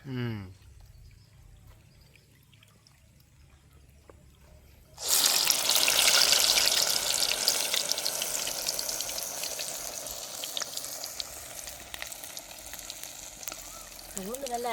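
Keerai vadai, spinach and lentil fritters, drop into hot oil and burst into a loud, steady sizzle that keeps crackling. A brief voice is heard before and at the end.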